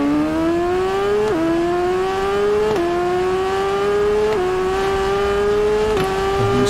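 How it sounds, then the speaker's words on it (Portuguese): Racing motorcycle engine in the TT Isle of Man: Ride on the Edge 2 video game, loud and close, revving steadily upward through four or five quick gear changes with no talk over it. "Essa moto aqui passou gritando aqui"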